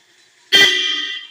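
One loud, close honk from a Toyota Fortuner's two-set horn installation that starts abruptly and sustains steadily to the end, otherwise quiet.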